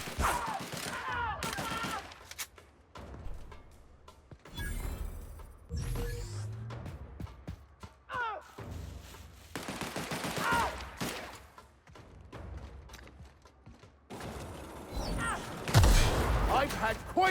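Bursts of gunfire in The Outer Worlds video game, loud rattling volleys and shots recurring throughout, mixed with game effects and voices talking over the action.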